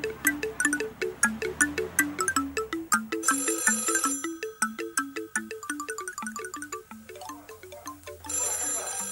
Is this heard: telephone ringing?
yes